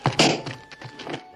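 Muffled, thunky crack of a silenced pistol from the 1961 war adventure film The Guns of Navarone, a short dull thud followed by a second softer knock, close and dry with no voices.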